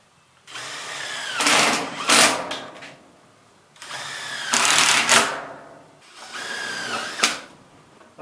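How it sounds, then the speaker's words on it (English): A drill drives screws into a wood furnace flue pipe in three separate bursts, each a rising whir that ends in a sharp final bite, close and fairly loud, with pauses between bursts. "So we'll put a few screws in here."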